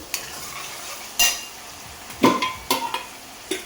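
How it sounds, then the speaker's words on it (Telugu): Masala paste frying in oil for a fish curry, stirred with a spoon: a soft background sizzle broken by several sharp scrapes and clinks of the spoon against the pan, close by. "పేస్ట్ చూసారు కదండి ఆయిల్ పేస్ట్ అనేది బాగా వేగుతూ ఉంది"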